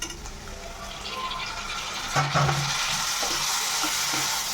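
Chopped tomatoes fry in oil in a pan for a Marathi pigeon pea amti, giving a loud, continuous broadband sizzle with a few stirring scrapes partway through.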